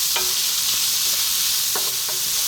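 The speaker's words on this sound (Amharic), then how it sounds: "ይሄንን ለሁለት ደቂቃ እንጠብሳለን።" Peppers, onion and garlic sizzle steadily in a frying pan over medium heat for fried rice, with a few sharp scrapes of a stirring utensil against the pan over the continuous hiss.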